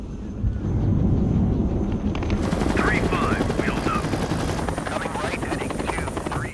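A helicopter in the 2017 war film The Wall roars with a dense, steady rotor thrum throughout, loud and close, while raised voices cut in over it during the second half.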